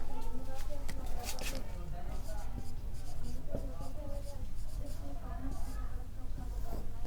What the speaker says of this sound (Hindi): चलिए मैं यहाँ लिख लेता हूँ।